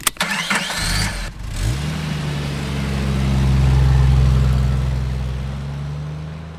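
A Maruti Suzuki Super Carry engine cranks with a few sharp clicks, catches and fires up, then settles into a steady, close idle that swells slightly before easing back.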